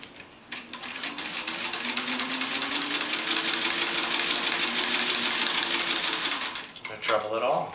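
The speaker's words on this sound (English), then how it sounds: "So now we're talking about 4 layers of denim, excuse me. Sew through that." A sewing machine runs in one sustained, rapid stitching burst through four layers of folded denim, its needle chattering steadily and close, ending with a brief pause and some handling noise.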